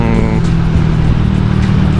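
A bored-up automatic scooter-style motorcycle revs hard and close, a loud steady engine roar with a rising tone early on, filling the whole clip without any talk.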